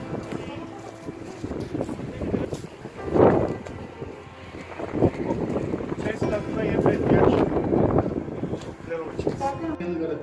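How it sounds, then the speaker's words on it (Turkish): Strong wind buffeting the microphone outdoors, rough rumbling gusts rising and falling with a heavier blast partway through, mixed with a voice talking. "aşırı derecede bir esinti var"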